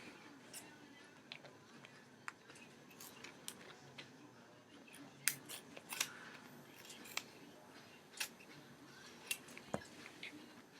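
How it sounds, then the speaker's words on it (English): Scissors snip through duct tape while a bow tie is trimmed to size, giving a quiet series of short, irregular cuts and crinkles close by. "So I think I'm going to cut this one a little bit more."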